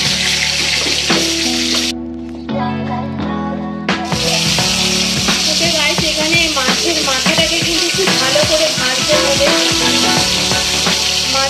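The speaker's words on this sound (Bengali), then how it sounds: "কিন্তু মাছটাকে পুরোপুরি ভেজে নিচ্ছি।" Fish frying in oil for a fish curry, a steady sizzle layered under background music, close and fairly loud, briefly thinning before the frying hiss returns and holds.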